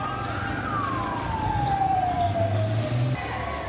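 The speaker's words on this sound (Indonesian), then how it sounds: "Sejumlah armada pemadam kebakaran dikerahkan untuk memadamkan api." A fire engine siren wails as trucks respond to a night fire at Makassar's central market, one long descending tone sweeping down over a rumbling engine and street background, fairly distant and steady.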